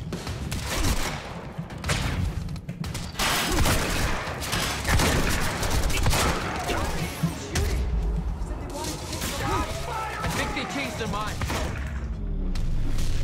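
Shotgun blasts and bursts of gunfire from the video game Quantum Break, dense and loud, firing repeatedly under shouted voices throughout.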